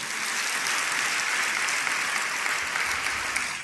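A church congregation at a sermon clapping steadily, a smooth, even wash of applause from many hands that holds at the same level throughout.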